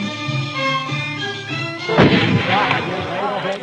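Tribal warriors in a mountain procession fire guns to show off their shooting skill. One sharp, loud blast cuts through about halfway along, with echoing noise after it and music or chanting continuing underneath.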